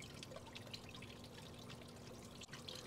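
Vinegar pours from a fountain pump split into two streams, trickling steadily into the cylinders of a seized Honda CB160 engine; a faint, continuous babbling flow with no talk.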